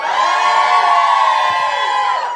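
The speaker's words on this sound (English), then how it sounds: "Give me a cheer if you like pineapple on pizza." A live audience at a comedy show cheers and whoops loudly, a sustained roar of many voices rising together and fading slightly at the end.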